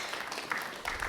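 Audience at an inaugural event in a theatre clapping briefly, a soft wash of scattered applause lasting about a second.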